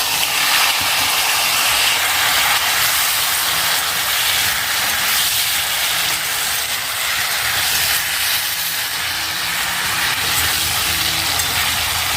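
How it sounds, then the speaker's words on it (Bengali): Pointed gourd (potol) frying in a pan, a steady loud hiss and sizzle holding constant throughout with no talking. "তারপর পটলটা ভাজা বসিয়ে দেবো"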